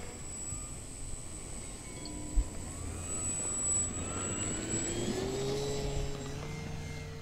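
A Dynam T-28 Trojan RC plane's electric motor whines steadily in flight, faint and distant, with its pitch gliding up and down as the plane passes, and no voices.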